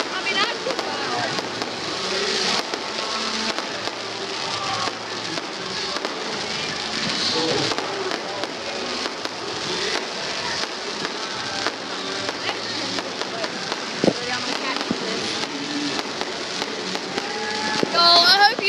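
Fireworks going off outdoors in a long, dense barrage of crackling bursts and pops, loud and continuous with sharp transients throughout, while people talk over the noise.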